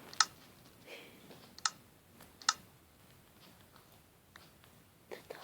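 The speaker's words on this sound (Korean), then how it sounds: "버튼 내렸어." A button pulled down in Minecraft gives a few sharp, quiet clicks spaced about a second apart, with faint rustling between them and no talk.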